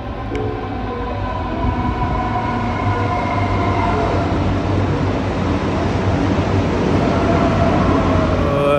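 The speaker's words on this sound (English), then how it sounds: "so my train is gonna pull up now." Train pulling into a station in Germany, its loud rumbling rolling noise building steadily with wheel and track clatter and faint tonal squeals as it draws up; no talking.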